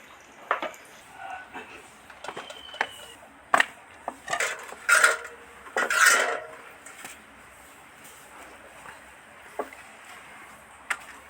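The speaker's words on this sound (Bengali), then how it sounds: "বড় মাছ তো বটি দিয়ে আঁশ ছড়া যাবে না সেই জন্য চামচ দিয়ে দিয়ে আঁশটা ছড়িয়ে নিচ্ছি" A spoon scrapes scales off a large katla fish in irregular scratchy strokes and clicks, some louder rasping clusters between quieter pauses, with no voice.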